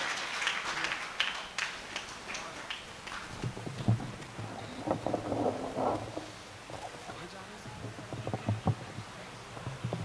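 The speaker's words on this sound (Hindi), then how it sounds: "मैं चाहता हूं एक बार ताली आप बजाएंगे" Audience applause for the poet Sudeep Bhola at a Hindi poetry event, a crowd clapping in bursts that swell and fade over several seconds, with voices talking through the clapping.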